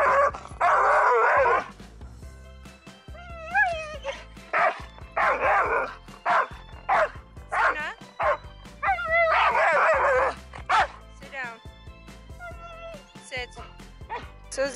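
A female dog barks, yips and whines in repeated excited bursts, calling toward other dogs on a trail beyond a fence; the loud yelps come in clusters with short pauses between them.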